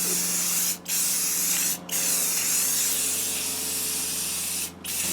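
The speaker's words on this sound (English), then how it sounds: "It's Rust-Oleum matte clear, and just give the entire model a good seal coat." A can of Rust-Oleum matte clear sealer sprays a seal coat over a curio box model: a steady, close aerosol hiss broken by three brief pauses in the spray.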